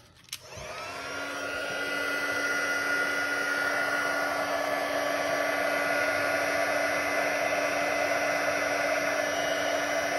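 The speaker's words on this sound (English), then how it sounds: "Okay, bring in my heat gun." Heat gun melting embossing powder for a crafting effect, a steady loud whir of fan and rushing air that switches on sharply and then holds constant and close, with no one talking.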